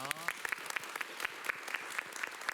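Applause from an audience, many hands clapping steadily at moderate volume, sustained throughout without a break.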